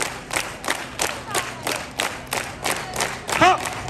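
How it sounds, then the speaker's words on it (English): A street crowd claps in unison along with a juggling performance, sharp broadband claps landing in a steady rhythm about every third of a second, with a voice shouting over them near the end. "Everybody clap, clap, clap, clap."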